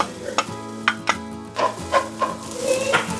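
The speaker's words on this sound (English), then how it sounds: "So I'm gonna add now a little bit of olive oil and my onions." Onions sizzling in olive oil in a pan for a sausage and kale pasta, a close, steady fry with repeated scrapes and taps of a spoon stirring them.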